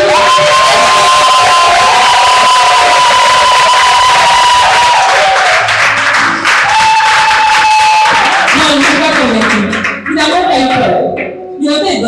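A church congregation shouts and cheers loudly together at a worship service, a dense sustained roar of many voices with whoops, a singer's held tones over it, continuing throughout.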